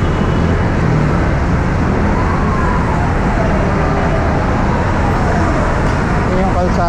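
Busy street traffic on Recto Avenue in Manila near Isetann Mall and the Lacson Underpass, a dense continuous roar of vehicles with a passing siren-like wail, and a person talking over it.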